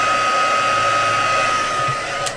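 A hair dryer used as a heat tool to dry craft ink on cards, a loud continuous blowing whine with a steady high tone, held close throughout and easing slightly near the end.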